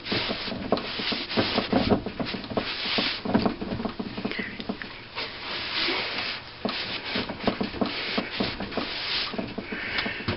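Cloth rubbing and wiping inside a freshly flex-honed cylinder of an old McCormick-Deering engine, a steady close scrubbing rasp with rapid irregular strokes throughout, no talk.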